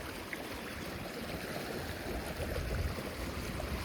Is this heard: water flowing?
yes